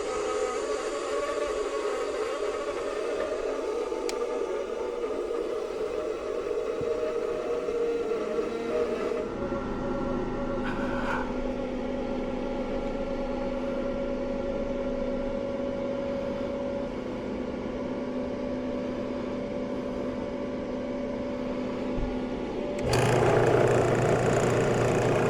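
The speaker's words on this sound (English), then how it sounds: "First thing I got to do is I got to recover the refrigerant." A refrigerant recovery machine hums steadily while pulling R22 from an old Goodman air conditioning unit, a continuous droning motor tone that shifts pitch partway through and ends with a louder burst of noise, with no voices.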